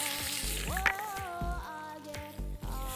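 Garlic sizzles in hot olive oil in a pot over an outdoor fire, a loud crackling fry with popping bursts under a busy, noisy background.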